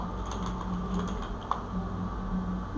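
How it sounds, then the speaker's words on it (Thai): Fingers tap on a computer keyboard while a MERN React project is being coded, a steady run of soft, close keystrokes over a low background hum, with no voices. "เดี๋ยวเราเรามาลองพิมพ์ตรงนี้กันนะครับ"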